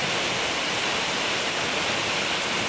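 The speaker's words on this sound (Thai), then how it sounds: "อันนี้ก็เป็นน้ำตกทอทิพย์นะครับอุทยานแห่งชาติเขื่อนแก่งกระจานนะครับ" Tor-Tip waterfall in Kaeng Krachan National Park roars in a steady, dense, loud wash of falling water, with no pauses and no other sounds.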